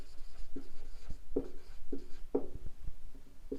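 Chalk or marker writing on a classroom board during a maths lesson, a series of short close scratchy strokes in an irregular rhythm, with no talking over them.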